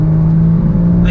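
A 2016 Porsche Cayman GTS accelerating on a back road, its engine and exhaust giving a loud, close, sustained growl over a short burst.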